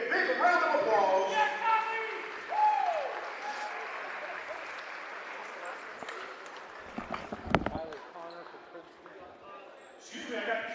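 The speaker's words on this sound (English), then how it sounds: "let's hear a big round of applause" Crowd applause at a girls' all-star basketball game in a gym, moderate clapping under an announcer's voice with ball bounces and sneaker noise nearby.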